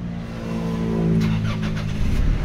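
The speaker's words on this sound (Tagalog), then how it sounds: "so engine start" A Nissan Navara diesel pickup, one with a fuel pump fault, cranks and fires up, settling into a steady mid-pitched idle with a few light rattles on top, close and fairly loud.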